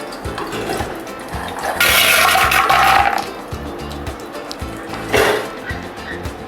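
Fried gatta goes into a pan with a loud, rushing sizzle lasting about a second, followed by a second short burst, over a steady background hum.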